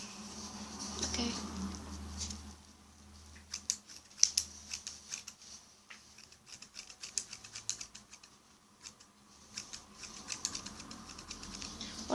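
Scissors snip through the synthetic hair of a cosplay wig being styled, a run of small crisp cuts in irregular bursts, close and fairly quiet, with a faint low hum behind.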